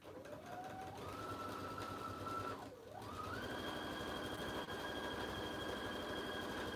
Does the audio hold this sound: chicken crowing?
no